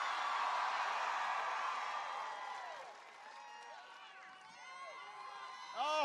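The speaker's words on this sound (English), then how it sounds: "Oh, this is a great crowd." A large rally crowd cheers for the President at a speech in Des Moines, Iowa, a loud wash of whoops and shouts that slowly fades as a voice begins speaking over it.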